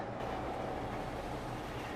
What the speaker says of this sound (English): It was just like literally the engine of the train?